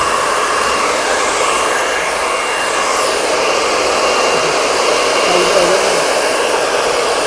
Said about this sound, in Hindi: मैं सिर्फ आपके बालों को ड्रायर से सुखा रहा हूँ